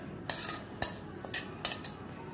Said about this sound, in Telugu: జస్ట్ ఒక 2 మినిట్స్ రోస్ట్ చేసుకోండి బ్రెడ్ పౌడర్ని.